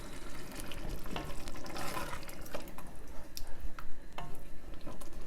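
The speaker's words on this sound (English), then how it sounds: "We're going to turn our pot down now to a simmer." Bolognese meat sauce bubbles in a pot as it is turned down from a boil to a simmer, with soft popping, gurgling and occasional stirring or utensil clinks close by, no talking.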